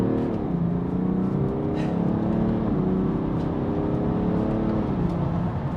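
A BMW 435d xDrive F36 Gran Coupe diesel accelerates hard in Sports Plus mode, its continuous engine drone climbing in pitch and dipping at gear changes.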